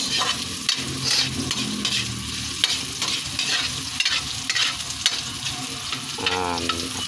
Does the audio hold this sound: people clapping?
no